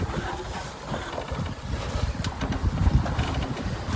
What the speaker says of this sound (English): Sailing, no motor today, and we're going 4 knots at the moment.